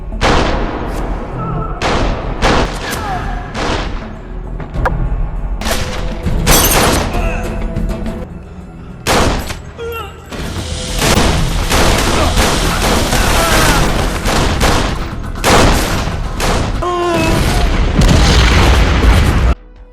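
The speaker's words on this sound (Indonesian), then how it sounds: "Tembak-menembak dan perkelahian pun terjadi." A film shootout with rapid bursts of gunfire and heavy booming explosions, loud and dense throughout, with shattering crashes between the blasts.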